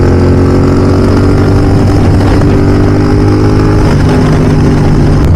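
A GT motorcycle roars loud and steady on a group ride, its engine droning continuously at close range as it holds speed, with no voices.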